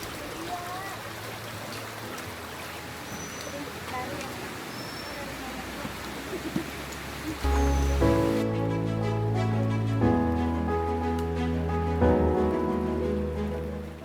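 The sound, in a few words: forest stream flowing on Kawah Ratu trail, Gunung Salak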